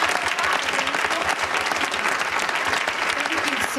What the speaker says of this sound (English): Let's give a little round of applause